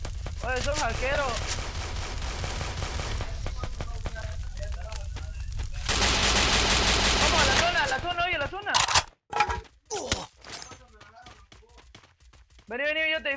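Rapid bursts of gunfire crackle in dense, sustained volleys, then give way to a few sharper isolated shots with a voice talking between them.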